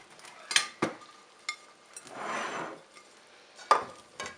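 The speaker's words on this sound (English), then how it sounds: "I'm going to plate some up" Utensils clink and scrape against a pan and plate as peanut noodles are served, with a few sharp taps, a soft rushing slide of noodles in the middle and a final clink.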